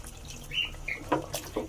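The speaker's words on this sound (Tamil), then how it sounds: "இனி நம்ம தேவையான அளவுக்கு தண்ணி சேர்த்துக்கலாம்" Water being added to a pot of beef curry while cooking, a brief trickling, splashing pour with small bursts of liquid, fairly close and moderately quiet, with no talk.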